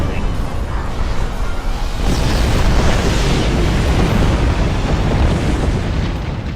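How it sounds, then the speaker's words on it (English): Explosions boom in the space combat game Star Trek Online, a heavy rumbling blast swelling into a sustained roar with whooshing debris, loud and full throughout. "Those went boom spectacularly."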